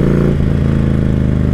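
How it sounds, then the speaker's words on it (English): A 2012 Harley-Davidson Street Glide rumbles steadily through its exhaust while riding, a loud, deep, continuous engine drone with a brief shift in pitch early on. "Man, that exhaust."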